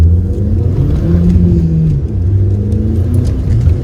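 A modified VW Polo GTI with a 1.8 turbo engine accelerates hard, its deep, loud engine drone rising and falling close by. There is no talk.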